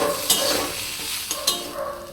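Potatoes and drumsticks frying in a pan with turmeric and cumin powder, a steady close sizzle broken by a few sharp stirring scrapes, with no voices.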